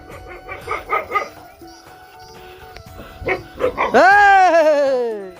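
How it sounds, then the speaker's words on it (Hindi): A dog gives a series of short barks under a person's talk, then breaks into a long loud rising-and-falling howl-like whine at the end, close by at a hillside home. "फाइनली कुत्ता भी स्वागत करने लग गया"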